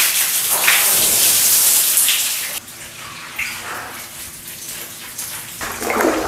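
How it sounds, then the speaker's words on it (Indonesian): Water splashes and pours onto floors and surfaces while a house is rinsed clean, a continuous hissing wash that breaks off briefly and returns in bursts, with no talk. "Siram-siram dulu nanti baru dicuci"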